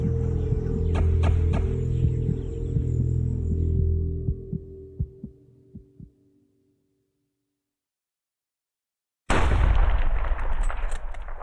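A rifle shot at a leopard on a hunt in Namibia. An idling rumble and faint clicks fade into silence, then a sudden loud, sharp blast bursts in, followed by sustained rough noise.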